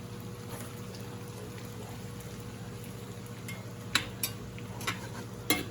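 Lamb loin chops with rosemary sizzle steadily in a pan, a continuous close frying hiss with a few soft clinks and stirring knocks near the end, no talking.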